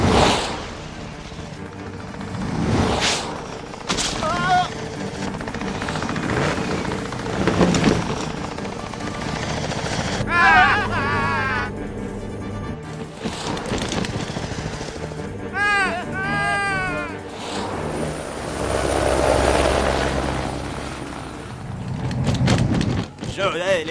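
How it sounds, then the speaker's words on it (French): Helicopter rotor noise throbs in and out amid dramatic music, engine roars and excited French voices in the Spirou cartoon, with bursts that sound like gunfire. "j'ai la vague impression que cet hélicoptère nous en voulait. Mille tonnerres, le revoilà!"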